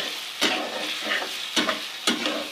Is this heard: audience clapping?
no